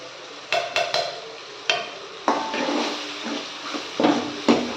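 Masala being stirred into softened tomato paste in a pan for a Tamil fenugreek kuzhambu, with a soft ongoing sizzle broken by several sharp scrapes and knocks of the spoon against the pan.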